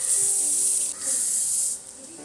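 Chopped onion and chilli frying in hot oil with golden-browned garlic for schezwan rice, giving a loud, steady hiss that dips briefly near the end, no talking.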